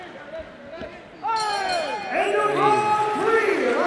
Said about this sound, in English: Applause for our female warriors.